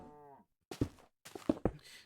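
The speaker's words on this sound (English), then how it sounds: "So I hate how many cows just appear" Cows moo in the video game Minecraft, first a low drawn-out moo, then after a short pause a string of grunting, lowing calls, fairly close and with no talk over them.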